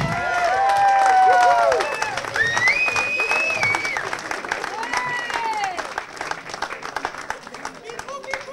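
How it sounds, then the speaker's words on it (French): A crowd at a country music songwriters' awards gala applauds steadily under loud cheering and whistling voices, the clapping growing sparser and fading toward the end. "je vous demande d'applaudir bien sûr Monsieur Pierre Laurie"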